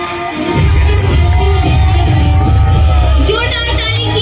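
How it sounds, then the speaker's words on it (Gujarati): A loud, close audience cheers, whoops and claps steadily for Kiyana Patel as she is called to the stage at a show. "જોરદાર તાળી કિયાના પટેલ માટે"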